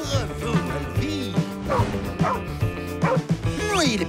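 A cartoon dog barks and yips repeatedly in quick, bouncy bursts, about a dozen close, loud barks with whimpering squeaks, over light cartoon sound effects.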